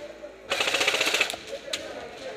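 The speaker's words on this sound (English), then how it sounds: "Oh, they're shooting." A rapid burst of airsoft guns firing during an outdoor medic game at an airsoft center, a quick run of close clattering pops that fades into a few scattered shots.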